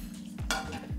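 Pork belly afritada with carrots and potatoes stirred in a pot, a quiet sizzle with a few soft utensil scrapes and knocks over about a second, close by.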